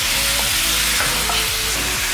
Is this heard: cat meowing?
no